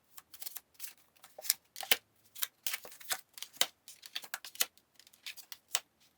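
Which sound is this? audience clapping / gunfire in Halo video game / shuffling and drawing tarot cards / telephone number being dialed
shuffling and drawing tarot cards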